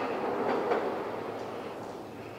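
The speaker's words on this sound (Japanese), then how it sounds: "電車が来ますね。" A train arriving at Otsu Station in Shiga, Japan, heard as a steady rumbling roar with faint rhythmic wheel clatter, moderately loud and continuous, with no voices.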